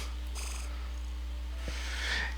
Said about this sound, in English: that cat is purring for now